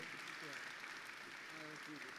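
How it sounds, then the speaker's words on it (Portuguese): Audience applause for a speaker closing the 15th week of the Centro de Ciências Sociais Aplicadas at Mackenzie, a steady even clapping wash that fills the whole stretch at moderate level, with faint voices showing through. "contribuímos com uma calorosa salva de palmas ao nosso palestrante"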